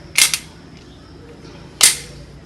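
An empty handgun dry-fired, giving two sharp metallic clicks close to the mic: a quick double click, then a single click after a short pause.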